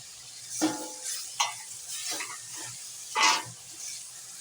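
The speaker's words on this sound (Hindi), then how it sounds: "टमाटर और हरी मिर्च भी भून लेंगे हम" Tomatoes and green chillies frying with spices in a pan for a cluster bean and capsicum curry, a soft steady sizzle broken by a few scraping stirs of a spoon, close and moderately quiet.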